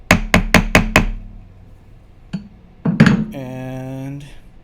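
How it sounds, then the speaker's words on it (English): A nylon hammer strikes a wire bangle loop in quick sharp taps, five close-set blows followed by a lone knock and a louder metallic hit, with a brief ringing tone after, recorded close. "So I'm gonna take my nylon hammer."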